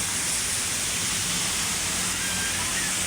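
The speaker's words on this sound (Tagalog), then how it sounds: "Lumalakas na ang ulan." Heavy rain falling steadily at Manila Bay, a dense, continuous hiss of downpour with no breaks and a faint low rumble beneath.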